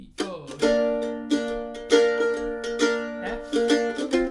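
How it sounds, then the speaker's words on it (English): A mandolin strums open chords in Bb in several rhythmic strokes, each one ringing out clearly, played close and alone. "Just to give you an example of how I would have made that sound using open chords, it would sound a bit like this."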